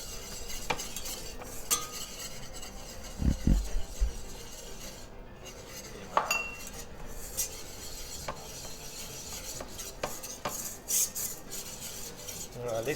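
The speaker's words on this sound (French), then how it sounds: "Maintenant, on met gentiment les farines à l'intérieur pour faire cette Béchamel." Flour is stirred into melted butter in a pot to make a béchamel roux, with soft scraping and clinks of a utensil against the pan over a faint background sizzle.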